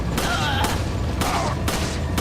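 Gunfire in Resident Evil 4 pounds out as four heavy, evenly spaced shots over a dense, loud game soundscape, each report sharp and close.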